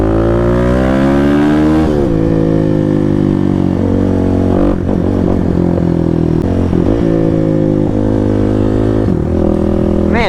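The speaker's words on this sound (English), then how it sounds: "these clutchless downshifts are crispy" Kawasaki KLX300 motorcycle ridden through city streets with clutchless downshifts: a loud, close single-cylinder engine note runs throughout, with its pitch stepping and swooping as gears change and the throttle blips.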